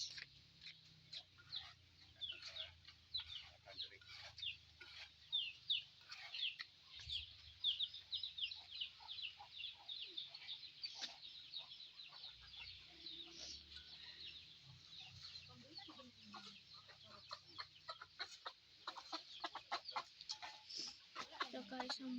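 Many chickens cluck and chatter continuously at a moderate distance, with a low background hum and faint voices now and then.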